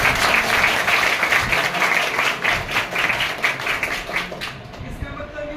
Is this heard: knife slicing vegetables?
no